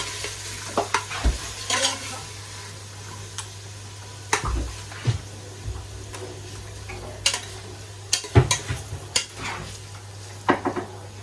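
Oxtail frying in a pot on a stove, with repeated scrapes and clinks of a spoon stirring against the metal over a low steady sizzle, the strokes coming in irregular bursts.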